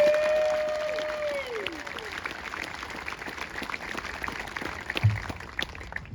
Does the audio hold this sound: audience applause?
yes